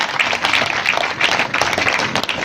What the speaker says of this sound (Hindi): एक बार जोरदार तालियों से अभिनंदन करें, जोरदार तालियों से